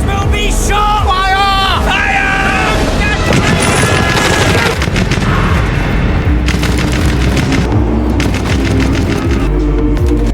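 War film battlefield din of gunfire and booming blasts, dense and continuous throughout, with shouting voices and babble mixed in at the start.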